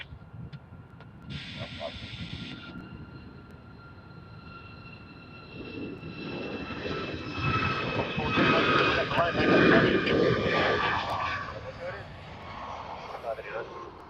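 A jet airliner taking off from runway 34 right at Sydney Airport. The engine roar and hiss start distant, swell to a loud peak, then ease slightly, with a brief tone near the start.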